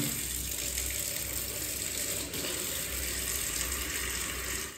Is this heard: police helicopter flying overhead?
no